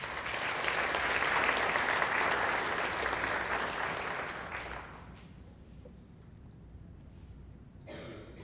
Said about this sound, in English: let's give these 8 finalists another round of applause.